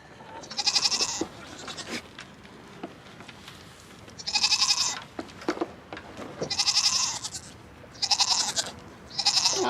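Goats in a herd with milking does and young doelings bleat loudly in repeated calls spaced a couple of seconds apart, close by over faint background rustle.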